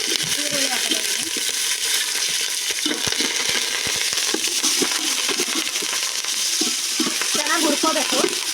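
Onions, green chillies and curry leaves frying in hot oil for a chicken biryani, a steady loud sizzle with scraping stirs throughout and a brief faint voice in the background.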